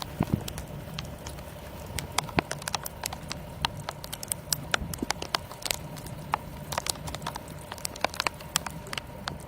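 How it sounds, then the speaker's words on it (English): Hard sleet hits a car in Omaha in an irregular, dense patter of sharp ticks and taps that keeps going, close and steady over a low background rumble. "It's not rain. It's not snow. It's coming down hard as the sleet."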